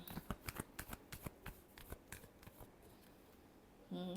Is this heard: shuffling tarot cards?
yes